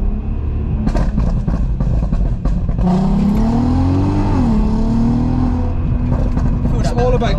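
Volkswagen Golf R32 MK5 accelerating hard in first gear, engine note rising steadily as revs climb from inside the car, with people talking over it.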